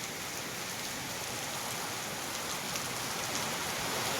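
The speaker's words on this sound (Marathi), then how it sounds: "वारं कमी झालंय आणि पाऊस वाढलाय जोराचा पाऊस" Heavy monsoon rain pours down in a dense, steady roar that grows slightly louder toward the end.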